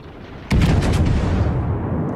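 A Dunkerque battleship in World of Warships fires high explosive shells: one sudden heavy boom, then a rolling low rumble that lingers loud and booming as it slowly fades.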